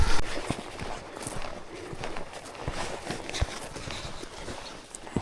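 Horses walking down a mountain trail during an Idaho elk hunt, hooves clip-clopping in an uneven, close rhythm over rocky ground with steady outdoor rustle and no talking.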